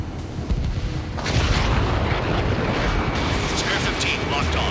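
Missile explosions in the Ace Combat 7 fighter jet video game, a dense, continuous booming roar that swells after the first second and holds loud throughout, with voices under it.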